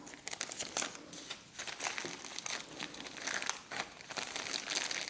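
Close, soft crinkling and rustling of a plastic bag as a piece of Mexican sugar paste, already wrapped in film, is wrapped up, with continuous irregular crackles throughout.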